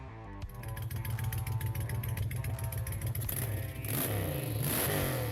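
A Suzuki Intruder 1400 cruiser motorcycle engine idles with a deep, steady rumble, then revs up and holds higher near the end, close and loud with no talk.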